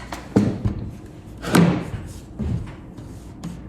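A nail gun fires into a primed MDF floorboard during a home renovation, giving two or three dull, close thuds about a second apart with a little rustle between.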